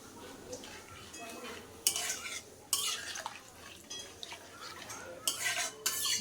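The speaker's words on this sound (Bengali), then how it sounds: "এইবার আমি নেড়ে নেব" A spoon stirs hilsa fish in mustard-poppy curry in a pan, making scattered scraping and clinking bursts against the metal over a soft bubbling background. The spoon strikes come near and fairly loud, in uneven clusters.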